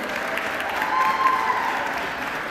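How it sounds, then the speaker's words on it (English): Parents at a karate Christmas show give a group a round of applause, steady clapping from a modest crowd at a fairly even level, with no voices over it. "Parents, let's give this group a big round of applause."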